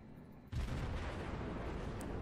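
Warship main-battery cannons firing in the naval combat game World of Warships, a sudden loud boom after a quiet half second, followed by a sustained rumbling roar and a sharp burst at the end.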